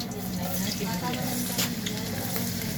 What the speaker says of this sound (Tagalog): Guys, simulan natin ang paggigisa